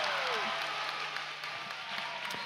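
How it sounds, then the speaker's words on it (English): A crowd at the BlizzCon 2013 World of Warcraft championship cheers and applauds, a broad, steady roar of clapping and voices under amplified arena sound. "you can see them just jumping up and down, cheering there."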